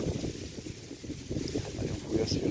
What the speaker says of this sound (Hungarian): Nagyon fúj a szél